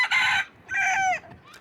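A rooster crows loudly and close at a bird breeder's farm in Oise, France, which keeps about 500 species of fowl. Two strong crowing bursts are heard, and the second runs into clucking.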